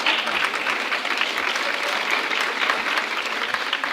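A church congregation claps for Jesus at a children's ministry service, a steady dense wash of applause from many hands, loud and continuous throughout.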